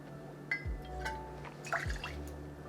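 Campari is poured into a cocktail mixing glass for a tequila Negroni, a faint, brief trickle and drip of liquid with a couple of light glassy taps in a quiet room.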